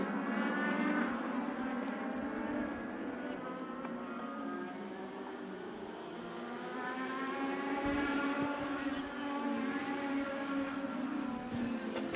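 Race cars racing at Havasu 95 Speedway, several engines roaring continuously together with rising and falling pitch as they run close side by side, loud and sustained without pause.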